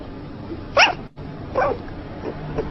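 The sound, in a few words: dog barking and whimpering in its sleep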